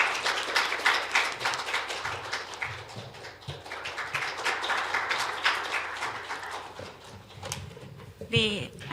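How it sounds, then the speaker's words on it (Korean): An audience at a Korean gender equality policy forum gives a burst of dense, indoor clapping, loud at first and fading unevenly, with a speaking voice near the end. "박수로 맞아주시기 바랍니다."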